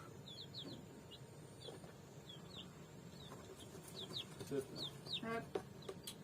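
Chicks cluck and cheep in quick, high little bursts, scattered throughout, growing busier toward the end over a soft background hum.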